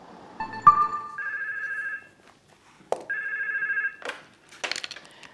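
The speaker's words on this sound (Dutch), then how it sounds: "De telefoon staat roodgloeiend bij hulplijnen in Zeeland." A telephone at a Zeeland helpline rings in repeated electronic bursts, two clear ring tones separated by short pauses, with some handling clatter and shuffling at the start and end; no talking.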